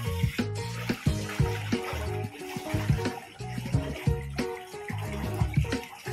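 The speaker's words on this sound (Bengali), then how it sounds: "এটা কি জল ভরা হচ্ছে না জল ছেড়ে দেওয়া হচ্ছে? জল পাল্টানো হচ্ছে।" Water gushes and splashes steadily into a fish seed pond tank during a water change, a close, continuous churning flow with rhythmic sloshing surges and no talk.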